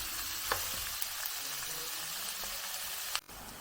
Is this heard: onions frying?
yes